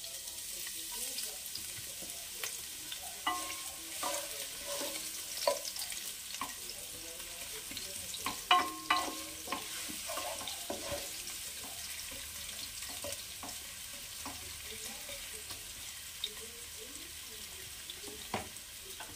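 Chopped onion frying in a thick-based pan on a gas stove, a continuous moderate sizzle with occasional clicks and stirring knocks, no voices.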